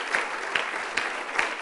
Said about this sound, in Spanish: ¿Puede darle un aplauso al Señor?